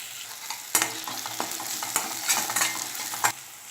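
Chopped onions and tomatoes are stirred and fried together in a pan for poori masala, with a steady sizzle under frequent scraping and knocking spatula strokes close by.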